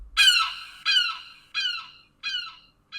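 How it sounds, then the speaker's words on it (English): An electronic prank chip plays a synthetic seagull call: four loud, bright squawking cries in a steady rhythm, each fading out, with a fifth just starting at the end. "any good vibrations after this produce our beloved seagull"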